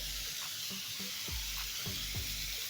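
Bitter gourd sizzling in a pan after grated jaggery is added, a steady close frying hiss with a few soft stirring scrapes and knocks, no voices.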